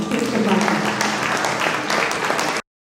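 An audience at a naat mushaira gives a burst of enthusiastic applause. The clapping is loud and dense and lasts over two seconds, with some voices mixed in, and then cuts off abruptly to silence.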